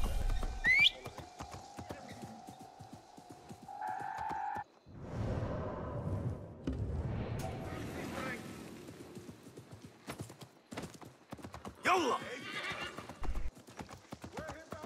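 Hooves clip-clop steadily while a horse whinnies a couple of times in Assassin's Creed Mirage, with a voice talking over parts of it and game effects in between.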